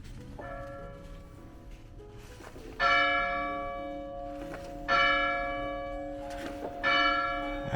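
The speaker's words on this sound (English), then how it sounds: "You'll be ringing the bell that's 174 years old." A 174-year-old cast-iron church bell at St Jacob Lutheran in Miamisburg, rung by pulling a rope, strikes three loud, ringing tolls about two seconds apart, each decaying slowly with a long shimmering hum.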